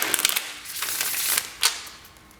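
Tarot cards are riffled and shuffled close up in quick papery bursts, a rapid flutter of snapping edges followed by a brief pause and one more short crisp riffle.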